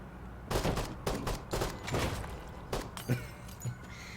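Rapid bursts of gunfire from the tactical shooter game Door Kickers 2, several loud close volleys in quick succession over about four seconds, with a few heavy thumps between them and no talking.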